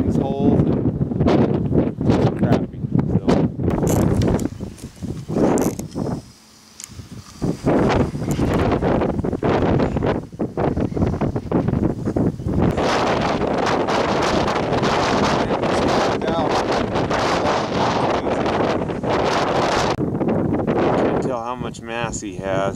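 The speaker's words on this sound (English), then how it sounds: "Tired of the wind. It's been blowing the last few days." Strong wind blows across open desert and buffets the microphone in heavy, continuous roaring gusts, with someone speaking intermittently over it.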